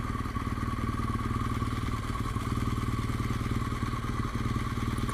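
A BMW R1200GS motorcycle idles steadily in the Yorkshire Dales, a close, constant low engine drone with a faint clatter throughout and no talk.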